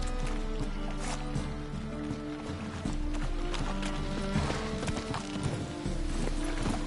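Horse galloping in The Witcher 3, with steady rapid hoofbeats under a continuous game soundtrack and ambience, fairly loud and unbroken throughout.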